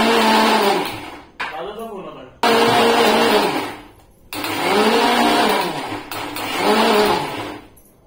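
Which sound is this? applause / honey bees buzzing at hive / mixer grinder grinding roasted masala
mixer grinder grinding roasted masala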